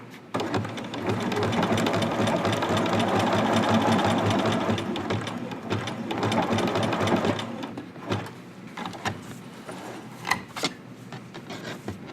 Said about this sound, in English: on the other side seam, we are going to sew just to the mark